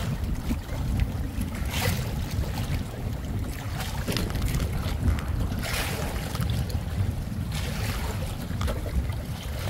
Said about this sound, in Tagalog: Medyo lumalakas yung hangin mga karabas